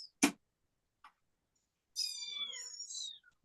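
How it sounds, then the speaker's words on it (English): Cats meow close by, with a drawn-out rising and falling call near the end, preceded by a sharp knock and a faint brief sound in an otherwise quiet room. "Let me grab my cats. You hear them just."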